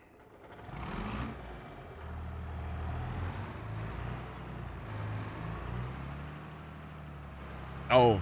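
Heavy truck engine in Farming Simulator 25 rumbles steadily through an unloading, with a clattering burst near the start and a sharp hiss like an air brake at the very end.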